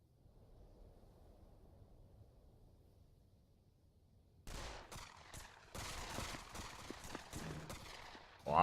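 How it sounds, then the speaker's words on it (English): Gunfire in the VR shooter Pavlov during a competitive match: a faint low rumble at first, then sudden rapid bursts of automatic fire, fairly loud and continuing in clusters to the end. "Lots of gunfire coming out."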